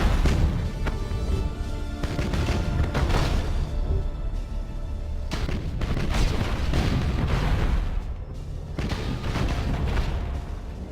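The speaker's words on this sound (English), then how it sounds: "Broadside macro cannons ready to fire on your order" Broadside macro cannons of a starship in Battlefleet Gothic: Armada fire in heavy, rolling booms, a dense continuous barrage of loud low blasts and crashes that surges and briefly dips before resuming, with no voices.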